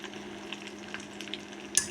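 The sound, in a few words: homemade ghee bubbling while boiling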